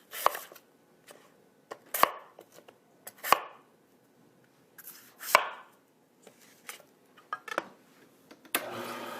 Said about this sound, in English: I'm going to cut them into chunks so that they fit through the chute of the juicer